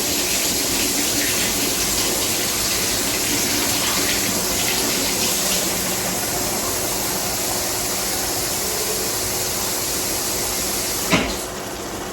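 Warm water runs steadily from a kitchen tap while cooking Salisbury steak dinner from scratch, a constant close rushing flow for about eleven seconds with a brief knock near the end.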